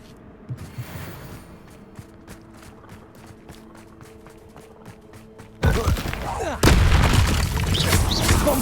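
Spell blasts from Bombarda and Confringo in the video game Hogwarts Legacy: a rhythmic run of thumps and impacts, then a sudden loud burst swelling into a roaring, crackling explosion that holds steady to the end.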